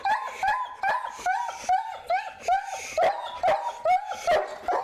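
A dog barks repeatedly at close range, giving about a dozen sharp, yelping barks in a steady, rhythmic series with short pauses between them.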